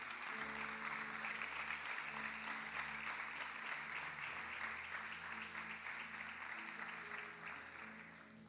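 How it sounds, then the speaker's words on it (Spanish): A church congregation claps steadily after a sermon, a sustained wash of applause with a low hum of music beneath it, fading slightly toward the end. "Dale un fuerte aplauso a la palabra de Dios."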